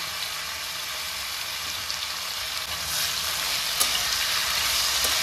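Whole green chilies fry in a pan with a dense, continuous sizzle that swells slightly partway through, close and fairly loud, with no voices.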